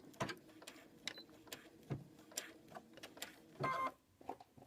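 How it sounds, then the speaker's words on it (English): A sewing machine stitches quilt fabric in short, quiet bursts of rapid mechanical clicks, with pauses between runs and no talking. "put it under the sewing machine"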